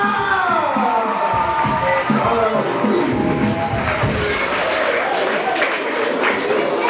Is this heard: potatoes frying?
no